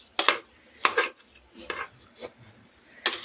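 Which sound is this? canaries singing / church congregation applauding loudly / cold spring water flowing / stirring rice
stirring rice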